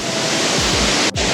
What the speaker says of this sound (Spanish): ahora mismo ya estamos llegando a la cascada